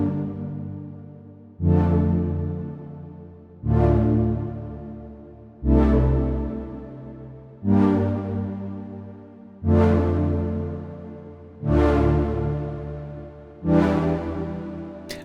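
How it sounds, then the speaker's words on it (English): A big Diva synthesizer pad with slight FM and LFO pitch modulation, stacked chords struck seven times in an even rhythm, each swelling loud then decaying before the next, alone without voices. "we are aiming for really this big pad sound"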